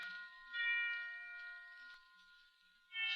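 Christmas bells ring in a radio drama, sustained bright metallic tones with a long decay, swelling and fading in two or three strikes, clear and fairly quiet.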